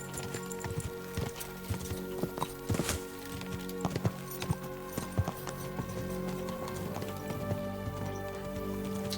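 Horse hooves clip-clopping on the ground in the medieval video game Kingdom Come Deliverance 2, a steady, close, rhythmic clatter of footfalls throughout with no talking.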